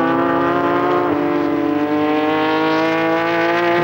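Porsche GT3 Challenge Brasil race car at Barcelona, a steady, loud, high-revving engine whine held close throughout, pitch drifting slightly as it passes.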